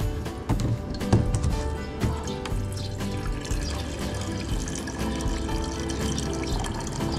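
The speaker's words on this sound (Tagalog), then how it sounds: "So lagyan natin ng tubig." Water pours in a steady splashing stream into a silicone collapsible folding kettle, close and continuous with small drips and gurgles, no voices over it.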